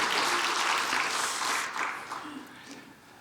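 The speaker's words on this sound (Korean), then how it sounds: "우리 박수로 이분들을 좀 환영하고 축복했으면 좋겠습니다" A church congregation applauds to welcome newcomers during a service, with a broad wash of clapping that starts full and gradually thins and fades toward the end.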